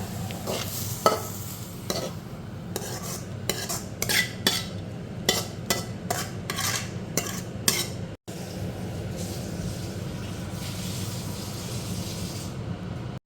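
Sautéed watermelon rind being scraped from a pan into a deep bowl, a run of sharp metallic spoon clinks and knocks against cookware over a low hiss, then a steadier rustling after a brief cut.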